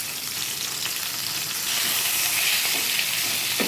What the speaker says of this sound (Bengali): এটার মধ্যে আমি গোটা গরম মশলা দিয়ে দিলাম।